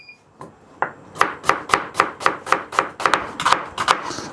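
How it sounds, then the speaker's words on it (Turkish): Onion being finely chopped with a knife on a board for a chicken taco filling: a steady run of about a dozen crisp, evenly spaced blade strikes, close and fairly loud, with no talking. "İç harcı için soğanımızı ince bir şekilde kıyacağım."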